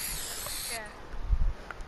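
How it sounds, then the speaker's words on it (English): Aerosol spray can hissing in a steady, fairly close burst for most of the moment, then cutting off, with low thumps and shuffling afterward during a snowman-building game. "Wait, which banana are you spraying?"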